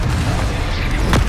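A Confringo blasting spell detonates in Hogwarts Legacy: a steady, deep booming roar with one sharper burst near the end, loud and close, no voices.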